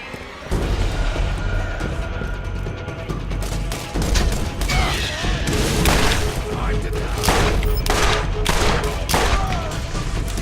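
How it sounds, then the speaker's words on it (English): Masher shotgun fire in Borderlands, with repeated sharp close-range blasts at irregular intervals over continuous combat noise and game sounds. "Five shots to kill an ordinary mook with a masher."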